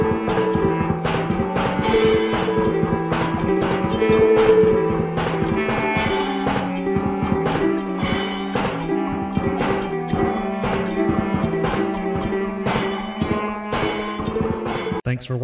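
A full mix of distorted plastic-bucket drums, clarinet and soprano ukulele playing together, a steady rhythmic pulse of hits under sustained melodic tones, loud and continuous throughout with no voices.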